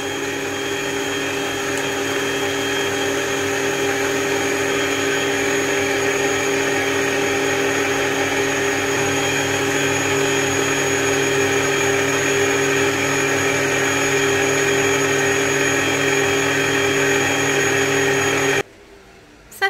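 An electric stand mixer beating eggs with sugar for cake batter, a steady, loud whirring motor hum holding an even pitch for nearly twenty seconds before cutting off abruptly near the end.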